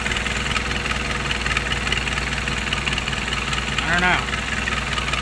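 A motor runs steadily throughout with a low, even hum and rumble and a faint rattle, under a brief spoken comment near the end.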